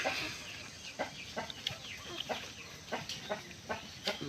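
A pet bird clucks in a repeated series of short, sharp calls at close range, the bursts coming roughly every half second with no talking.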